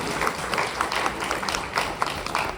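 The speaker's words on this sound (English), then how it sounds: "please clap it up for her" Steady audience applause for a guest at a conference keynote, dense continuous clapping from a full room with slight rhythmic peaks, fairly loud throughout.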